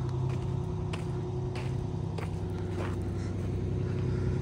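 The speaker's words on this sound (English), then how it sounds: "just see if it'll build up air and release the brakes" A 1973 Kenworth W900A truck idling with a steady low rumble while building air pressure, with faint hissing and clunks as the brakes release, close and continuous.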